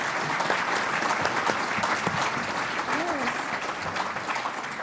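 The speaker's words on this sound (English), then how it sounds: "I'd love if you guys could give a round of applause to our panelists." An audience at a Kentucky conference on energy from organic waste gives the panelists a strong round of applause. Dense clapping carries throughout while a voice speaks briefly over it.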